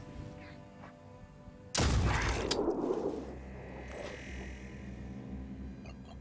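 A weapon fires in the tactical video game Phoenix Point, a single sudden loud blast that decays over about a second into a low rumble, followed by quieter mechanical game sounds.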